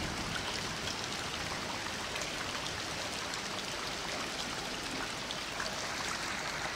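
Winter meltwater runs and floods continuously, a steady rushing wash like a stream or heavy rain, even and fairly quiet with no voices.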